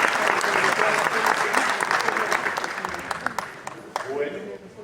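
Audience applause welcoming a speaker to the stage at a talk, a dense, steady wash of clapping that gradually thins out toward the end, with a voice briefly starting up under it.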